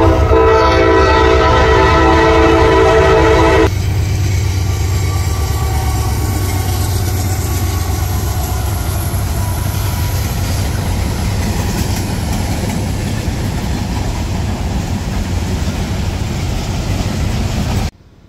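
A Norfolk Southern freight train, with a Jersey Central heritage unit trailing second, sounds a long, loud horn blast, then its cars rumble and clatter steadily past for many seconds before cutting off abruptly.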